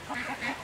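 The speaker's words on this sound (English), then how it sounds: "Oh, I see the mama duck right over here." A mother duck sitting on her brood gives a quick series of harsh, nasal quacks close by, three or four rhythmic calls in under a second.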